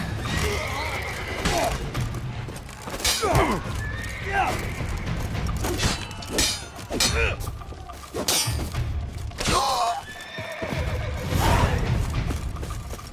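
In The Witcher 3: Wild Hunt Blood and Wine, horses neigh repeatedly and loudly over galloping hooves and clattering during a castle capture, while voices shout and talk throughout.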